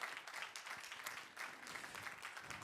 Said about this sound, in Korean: 우리 퇴장할 때까지 감사와 격려의 박수 하겠습니다.